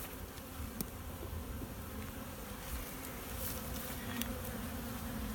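Honeybees buzz steadily around an open hive during a frame inspection, a dense continuous drone close to the microphone with a few individual insects passing louder near the mic.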